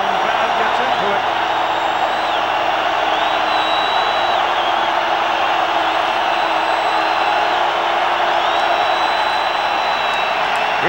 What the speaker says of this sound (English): the home crowd gets into it